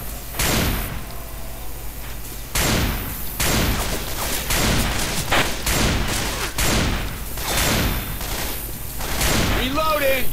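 Gunfire in the zombie shooter Left 4 Dead 2 comes in repeated sharp bursts and single shots at an uneven pace, loud and close against background game noise.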